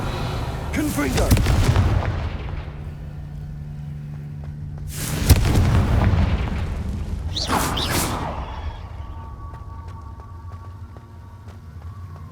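The Confringo spell fires repeatedly in Hogwarts Legacy, producing three loud, booming blasts spaced a few seconds apart, each followed by a rumbling tail that fades into a quieter ambient hum.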